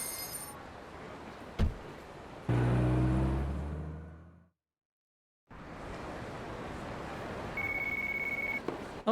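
An incoming phone call rings in the Yakuza 4 Remastered video game: a steady electronic tone lasting about a second, sounding near the end over a noisy, rushing game background that drops to silence partway through.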